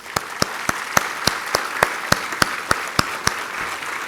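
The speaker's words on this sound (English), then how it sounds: "join me in acknowledging this singular contribution by just giving them a clap" An audience at a university commemorative function for graduating batches claps together in unison, a steady rhythmic beat of about fourteen sharp, evenly spaced claps over a faint crowd murmur.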